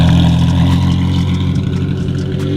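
A loud Porsche Carrera GT exhaust drones steadily at close range, a deep rumbling engine note holding fairly even throughout.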